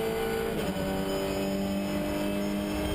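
TCR Asia touring race cars lapping the Shanghai circuit, a steady loud engine drone holding throughout as the cars run down the main straight, with no clear pass-by swell.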